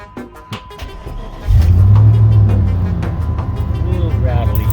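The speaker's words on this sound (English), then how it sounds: "Cold start for the Jeep." A Jeep's engine cold-starting: a brief crank, then the engine catches with a loud low roar that settles into a steady, slightly rattly idle, close by.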